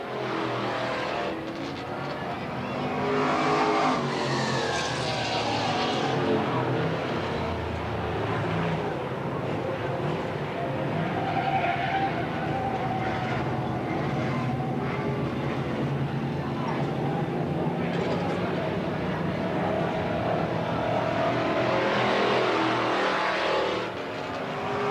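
Race cars lapping at Eugene Speedway in 1991, engines droning and swelling as cars pass at a distance, under continuous announcer commentary.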